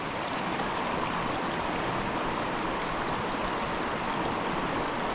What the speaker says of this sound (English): just listen to the water going over the boulders